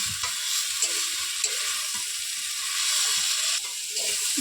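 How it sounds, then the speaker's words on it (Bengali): Water spinach (kalmi greens) with potato fries in a pan, a bright continuous sizzle with occasional scrapes and stirring clatter of a spatula, close and steady with no talking. "শাকটাকে ভালো করে একটু ভেজে নেব"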